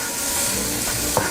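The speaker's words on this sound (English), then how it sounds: "so just kind of sizzle them up in the pan here a little bit" Green beans sizzle in a frying pan on a camp stove by a river, giving a steady close hiss of frying with a faint stir or clink near the end.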